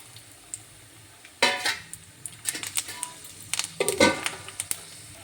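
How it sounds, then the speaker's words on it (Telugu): Peanuts, urad dal and chana dal crackle and sizzle in hot oil, with sharp bursts of spattering and metallic clinks of a spoon against the pan, loud and close after a quiet start. "పల్లీలు మినపప్పు శనగపప్పు వీటిని కూడా వేస్తున్నాను"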